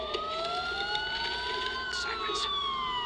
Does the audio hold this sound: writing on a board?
no